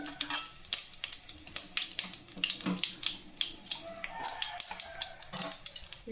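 Hot oil sizzles and crackles steadily as dried red chilies fry, with sharp pops scattered over a close, continuous hiss.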